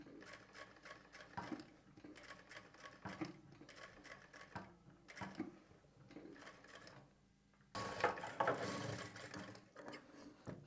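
A sewing machine stitches a scalloped blouse neckline slowly, making faint, uneven runs of clicking and whirring with stops and starts and a louder stretch near the end, with no voices.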